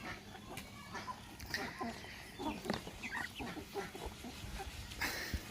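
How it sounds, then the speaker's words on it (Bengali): Several farm chickens cluck and chatter nearby in irregular bursts over a noisy background, with no clear speech. "আপনারা দেখতে পাচ্ছেন কিছু ফার্মি মুরগি।"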